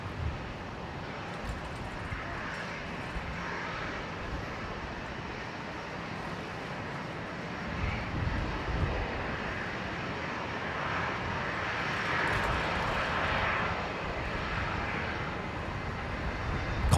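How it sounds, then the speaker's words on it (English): A Qantas airliner departing Brisbane airport for Sydney gives a faint, distant, steady jet rumble that swells slightly in the middle and again toward the end, with light wind noise. "Qantas 539 heading off to Sydney"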